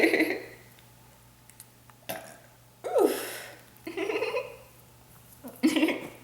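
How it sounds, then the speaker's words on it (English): Several wet, guttural burps from a woman burping on command, spaced a second or so apart, loud and close with quiet gaps between them. "Burping is just so much fun."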